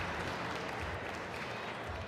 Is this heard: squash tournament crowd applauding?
yes